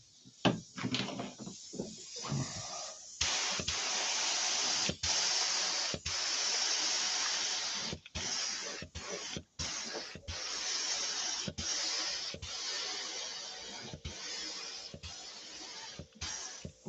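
Spray paint hissing onto a repaired model aircraft wing in steady bursts, broken by short pauses between passes, fairly quiet and close, with no talking.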